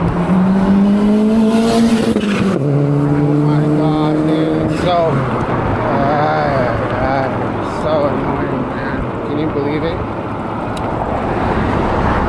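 A car passes near a moving eBike on a commute home, its engine tone rising then falling, with rushing wind and road noise throughout and a person talking over it.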